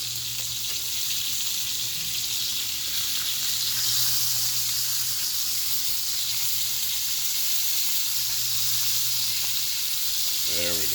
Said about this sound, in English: I'm going to come over to my sausage. And they look like they got a little brown on them, so I'm going to go ahead and flip them